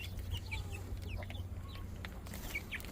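Young chicks of mixed breeds, including frizzles and a blue lace red Wyandotte cross, cluck and peep in scattered short calls over a steady low hum, close by and fairly soft.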